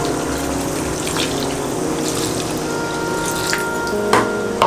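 Water is poured into a pan of chicken curry as it cooks, a loud, steady rushing gush with a sizzling hiss and a few splashes near the end.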